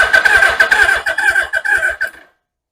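A 1981 Suzuki GS750 motorcycle engine cranks with the choke applied, a loud, close starter whir pulsing rapidly for about two seconds before cutting off abruptly without catching.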